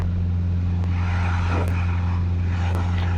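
A Socata TB10 light aircraft's engine holds a steady, loud propeller drone during the takeoff roll. A deep constant hum is underneath with a few faint clicks.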